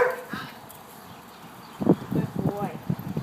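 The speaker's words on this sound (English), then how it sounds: "we need to work on the barking a little bit" A dog being trained to park calmly on its bed gives a couple of short, close barks and yips near the end, after a quiet stretch, with a person's voice nearby.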